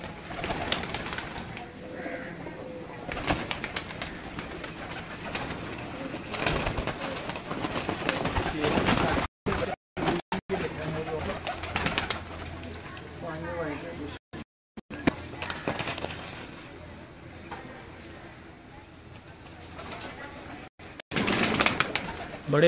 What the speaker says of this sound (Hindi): जैन वाले ते मलंग कबूतर ने जी।